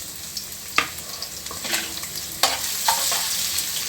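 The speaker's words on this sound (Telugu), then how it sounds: "ఇప్పుడు ఆయిల్ వేడయింది ఇందులో మనము అల్లం ముక్కలు వెల్లుల్లి ముక్కలు వేసుకొని ఇవి కాసేపు వేయించుకోవాలి" Ginger and garlic pieces frying in hot oil, a close, constant sizzle with a few sharp stirring scrapes and spatters, no talking.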